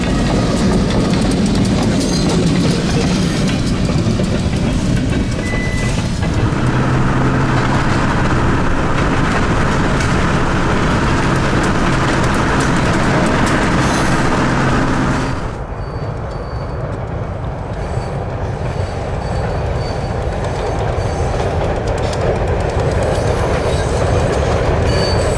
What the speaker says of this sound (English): The train snuck by as I was getting into my car